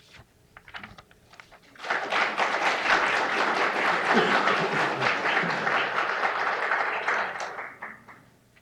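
A poetry and barbecue event audience breaks into sustained applause for local poets, rising sharply after a few quiet scattered sounds, holding a full steady roar of clapping for several seconds, then tapering off.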